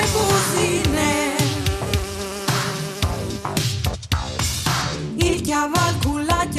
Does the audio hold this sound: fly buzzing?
yes